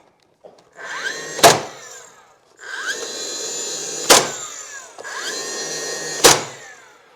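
A power drill drives screws into a monitor-barn-style chicken coop under construction, in three separate bursts of about a second and a half each. Each burst opens with a sharp bite and a rising whine, with brief pauses between.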